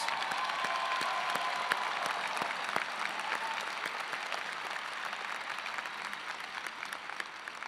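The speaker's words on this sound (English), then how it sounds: "Let's give them all a round of applause." Steady applause from a large audience at a university engineering commencement ceremony, many hands clapping continuously at an even level, slightly distant.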